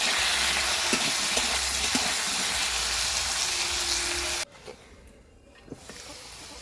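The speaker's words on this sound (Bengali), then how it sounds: "এবার আমি আলুগুলো একটু লাল লাল করে ভেজে নেবো" Potatoes with turmeric and salt fry in a pan with a loud, steady sizzle and occasional stirring scrapes, close up, before the sizzle abruptly drops away to quiet with a few faint knocks.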